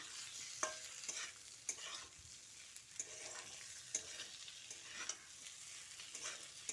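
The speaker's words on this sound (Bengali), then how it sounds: "এবার আলু ও পটলটাকে ডালের সঙ্গে খুব ভালোভাবে মিশিয়ে দিচ্ছি" Fried pointed gourd and potato are stirred into dal in a pan, a faint, steady sizzle broken by regular soft scrapes and knocks of a spatula, with no one speaking.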